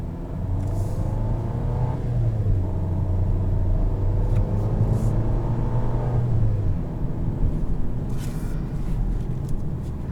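A 2022 Volvo XC40 T5 R-Design pulling away and driving, heard from inside the cabin: a steady low engine rumble with rising and falling tones as it accelerates and shifts.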